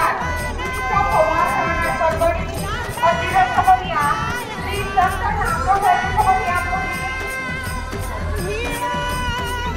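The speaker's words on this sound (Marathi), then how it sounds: "आता गर्दी पण वाढली." Dense crowd of pilgrims in a temple queue at Pandharpur, a steady close hubbub of many voices with scattered shouts and calls rising and falling throughout.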